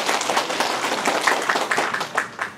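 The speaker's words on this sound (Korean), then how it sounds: "박수 좀 부탁드릴게요" An audience at a county briefing in Geumsan claps together, a brisk, moderately loud burst of hand claps with a few sharper individual claps standing out, no voices over it.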